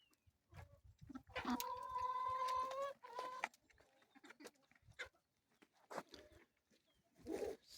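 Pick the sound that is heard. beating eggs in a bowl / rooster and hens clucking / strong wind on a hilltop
rooster and hens clucking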